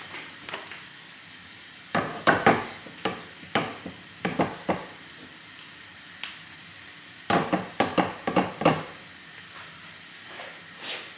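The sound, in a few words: paratha frying on a pan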